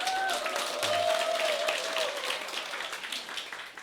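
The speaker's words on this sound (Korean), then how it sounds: "너무 이렇게 열화와 같은 박수를 쳐주시니까" Audience applause at a Saturday lecture on herbal medicine, a dense steady wash of clapping from a large crowd, fairly distant and slowly thinning out.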